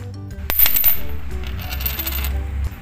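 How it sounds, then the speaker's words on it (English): A coin dropped onto the ground strikes with a sharp metallic clink, then rings and rattles as it spins and settles, close and clear with no voices. "It is a sound of a coin falling on the ground."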